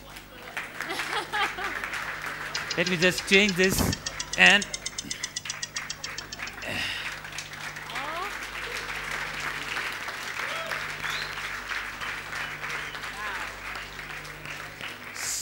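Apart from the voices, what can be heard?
audience applause at a product launch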